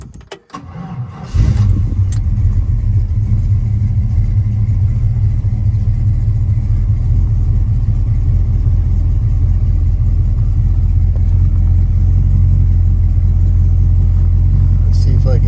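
A 1955 Chevrolet Bel Air two-door sedan is started with the key: a brief jingle and crank, then the engine catches and settles into a loud, steady, deep idle rumble that runs to the end.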